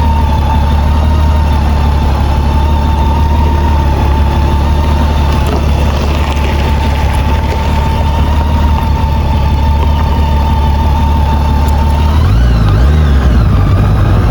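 A motorcycle engine rumbles steadily and loudly close by for the whole stretch as the bike pulls in, with a steady whine and a low-pitched shift near the end.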